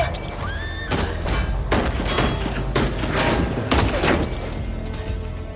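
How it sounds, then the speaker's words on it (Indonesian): Heavy gunfire rings out in an action film shootout, with dense bursts of rapid shots, loud close cracks and rumbling impacts crowding together. "Sampai di suatu kesempatan terjadilah baku tembak di antara mereka."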